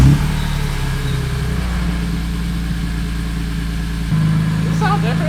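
A BMW E46 M3 idles with a newly fitted exhaust, a steady low engine drone that shifts pitch and grows slightly louder near the end, while people talk over it.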